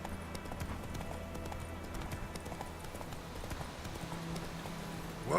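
Geralt's horse Roach from The Witcher 3: Wild Hunt gallops in a steady, fairly quiet clip-clop rhythm of hoofbeats, ending in a brief louder burst.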